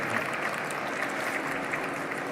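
Conference audience applauding at a climate-focused event, a dense, steady wash of many hands clapping at even loudness throughout, with no voices over it.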